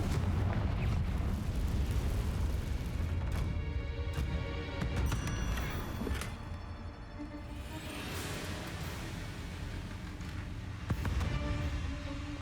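A Confringo blasting spell explodes in the Hogwarts Legacy video game, giving a deep, sustained booming rumble with a few sharper bursts and cracks. The roar slowly fades, then rises again toward the close.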